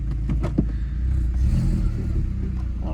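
A Mk4 Jetta with the 1.8T engine idles steadily and fairly quietly, a continuous low rumble with a few light clattery blips near the start, heard close with no talking.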